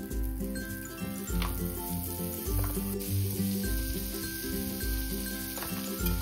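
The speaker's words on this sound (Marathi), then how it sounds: "पॅन अगदी मस्त असं गरम झालं ना की त्यावरती आपल्याला बटर टाकायचंय" Butter sizzling in a hot pan for toasting vada pav, a steady close crackle with occasional light clinks and soft pops, under faint background music and no talk.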